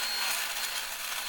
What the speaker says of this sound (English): take it over to the disc sander and put a nice edge on that disc